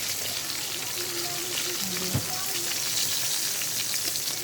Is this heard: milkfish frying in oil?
yes